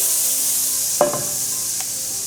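Margarine melts in a hot pan on the stove with a faint, steady sizzle, and a couple of brief scrapes or clinks sound close by.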